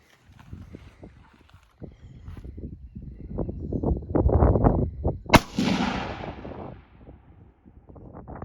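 A single sharp report from a PSA 556 AR-15 rifle fitted with a night vision scope, fired at a target 80 yards away outdoors, cracks mid-clip with a trailing echo amid rustling and shuffling movement noise.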